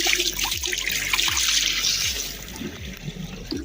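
Water pours and trickles into a large pot in a Pakistani desert village, a close, continuous splashing gurgle with rhythmic low glugs and no talking.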